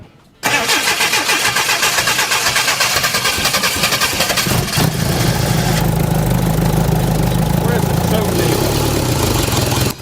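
A classic Lotus engine on manual choke cranks and catches, then settles into a loud, rough, steady idle that runs on continuously.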